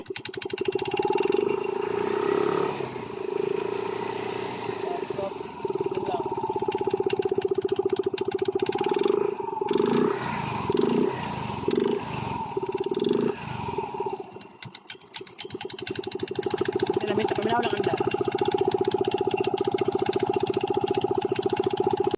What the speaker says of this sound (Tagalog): kapag yung motor scooter ay mag-experience ng itong senaryo na umaandar at ayaw umikot ng gulong